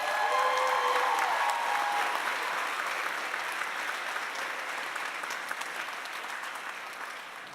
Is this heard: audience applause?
yes